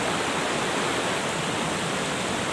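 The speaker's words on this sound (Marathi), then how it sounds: "आता आपण धबधब्याच्या जवळपास आलेलो आहोत" Dugarwadi waterfall on a trek route, a dense, steady rush of falling water filling the air at close range, constant and loud with no pauses or voices.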